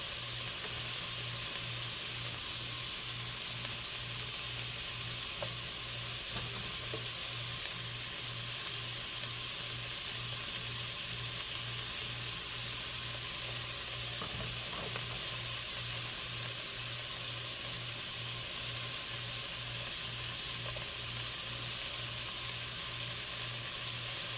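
Chuck beef and vegetables, cauliflower among them, sizzle steadily in a hot pan for soup, a continuous close frying hiss with a faint low hum beneath and no talk.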